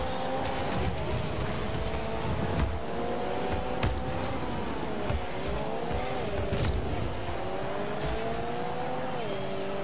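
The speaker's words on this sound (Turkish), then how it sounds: "Sana çarpmamak için ani fren." A car in Rocket League brakes hard amid a constant engine drone, with short tire-squeal skids and rising and falling motor tones under busy game noise.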